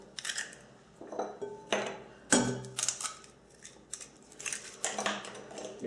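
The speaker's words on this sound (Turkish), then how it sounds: "Yumurtalarımızı güzelce kırıyoruz" Sharp cracks and taps of eggs against a bowl rim, several in an irregular sequence, with clinks of shell and dish close by.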